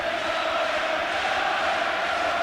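A Belfast arena crowd at a world flyweight championship bout keeps up a loud, continuous roar of cheers and yelling, close and sustained throughout.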